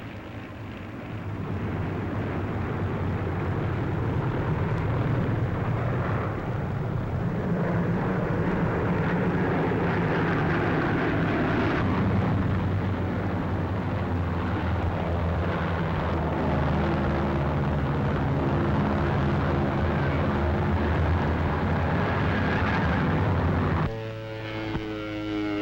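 World War II P-38 Lightning fighter planes flying in formation, a loud, sustained engine drone with a steady low hum across the whole stretch, easing off near the end.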